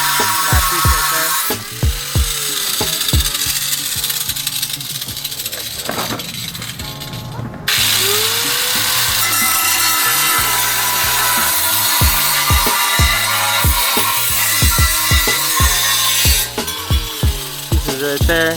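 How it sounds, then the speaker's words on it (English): A power tool cuts metal pieces off a Toyota Sequoia bumper during a rear leveling kit install, giving a loud, sustained harsh grinding rasp close by that runs through most of the clip with a brief drop in the middle. "Now it's the bumper cut. We're just cutting the metal pieces off."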